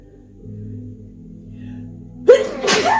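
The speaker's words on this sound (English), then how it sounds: "excuse me, I gotta sneeze" A single sharp human sneeze bursts out near the end, preceded by a quick intake of breath over quiet room hum.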